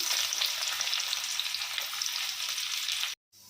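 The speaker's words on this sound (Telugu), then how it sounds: "అదే ఆయిల్లో ఆనియన్స్ వేసి అండి" Onions frying in hot oil in a pan already used for prawns and eggs, a loud, dense, steady sizzle at close range that cuts off abruptly near the end.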